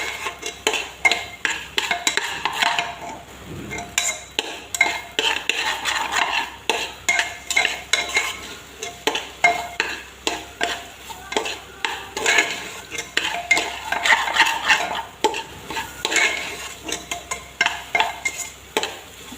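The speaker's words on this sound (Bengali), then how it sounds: "চালটা ভালো করে ভেজে নিতে হবে, তাই ভালো করে আমি ভেজে নিচ্ছি।" Rice being fried and stirred in a pan for paneer pulao, a rhythmic run of scraping strokes from a spatula against the metal pan, with a soft sizzle underneath, close and steady, no talk.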